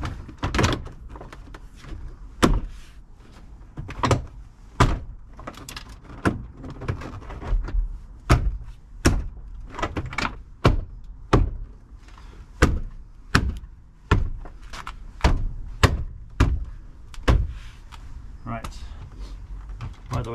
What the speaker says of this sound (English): now just move the lever on the door to make sure that it's locking